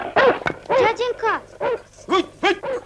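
A dog gives a string of high, yelping whimpers and short barks in quick bursts with brief gaps, close and fairly loud, in an old 1969 family film.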